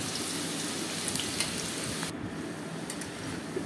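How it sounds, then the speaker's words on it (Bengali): Potatoes fry in a pan with a steady, dense sizzle and crackle of hot oil that stays even throughout, softening a little partway through. "আলুটাকে আমি এইভাবে ভেজে নেব"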